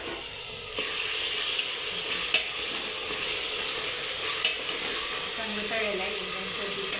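Spice mixture fries noisily in a pan for a spicy goat mutton curry, a loud continuous sizzle and hiss with a few stirring knocks, while a voice talks faintly underneath.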